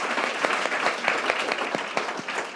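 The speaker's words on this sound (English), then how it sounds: "So will everyone give a round of applause for the panel?" Audience applause for a panel at a conference, a dense, continuous burst of many hands clapping close by, steady throughout.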